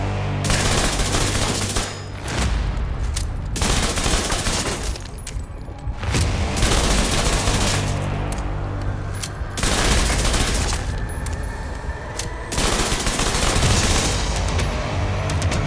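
Bursts of rapid Backfire SMG gunfire from The Division 2 come loud and close in long sustained strings, separated by brief pauses.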